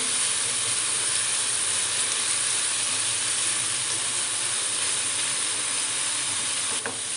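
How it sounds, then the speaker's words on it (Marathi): Loud, continuous sizzling of a spice paste sautéing in hot oil, an unbroken hiss with faint stirring throughout. "आता हे सगळं आपल्याला व्यवस्थित असं तेलावर परतून घ्यायचं आहे"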